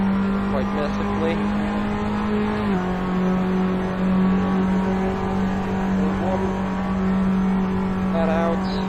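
A Tatuus open-wheel race car engine in the Assetto Corsa racing game at Silverstone, a steady high-pitched drone that holds, dips with a gear change and climbs again, with someone talking over it.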